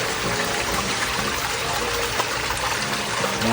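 Water drains out of a pool filter in a steady, close, rushing gush with a continuous broadband wash and no pauses.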